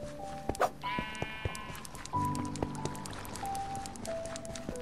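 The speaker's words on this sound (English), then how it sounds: "Looks like there's a sheep up there." A sheep in Minecraft Dungeons bleats in short, clear calls near a mission-select hub, with soft game ambience, chimes and footsteps around it.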